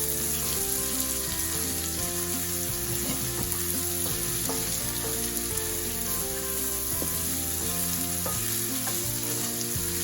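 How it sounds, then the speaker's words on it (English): About four thickly chopped onions frying in a pan with a dense, steady crackling sizzle and light stirring scrapes throughout, close and even, with no voices. "It will take 2-3 minutes to cook the onions. I'm going to keep stirring."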